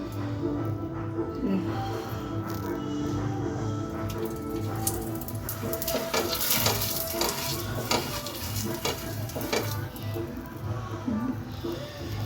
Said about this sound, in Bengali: তো ক্ষীরেরটা ভাজছি আগে, তারপর নারকেলেরটা ভাজবো।